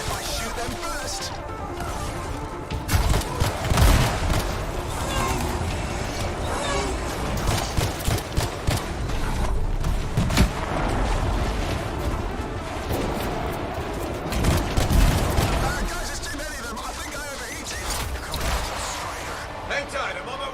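Heavy gunfire and crashing impacts from the Anthem video game in a dense, chaotic battle, with loud bursts and booms rising and falling throughout beneath voices talking.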